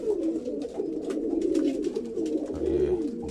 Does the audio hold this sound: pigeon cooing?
yes